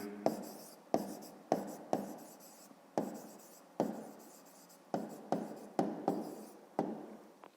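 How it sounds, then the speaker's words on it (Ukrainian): Handwriting on paper, a series of about a dozen quick scratchy pen strokes in irregular bursts, close and fairly quiet, with no talking. "Пишемо відповідь."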